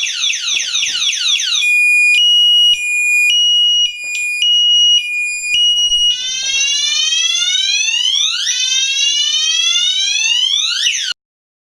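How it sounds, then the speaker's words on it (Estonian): A bicycle anti-theft alarm, triggered by moving an electric bicycle, sounds a loud, piercing electronic siren that cycles through warbling chirps, steady beeping tones and rising whoops, close and continuous, then cuts off abruptly. "puldiga juhitav ärandusvastane seade teeb päris kõva häält"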